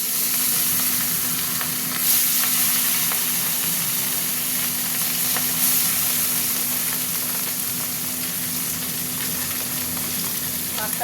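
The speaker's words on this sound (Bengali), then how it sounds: "মাছটা আগে ভাজবো" Fish pieces fry in hot oil in a wok with a loud, continuous crackling sizzle, steady throughout with a low hum underneath and occasional brief pops.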